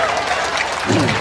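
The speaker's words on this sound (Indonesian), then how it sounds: "tepuk tangan" A short burst of audience applause at an Indonesian Islamic question-and-answer religious talk: dense, steady clapping from a crowd, loud and filling the moment.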